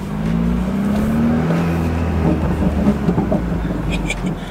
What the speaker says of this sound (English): Dude, so many burbles in this car right now.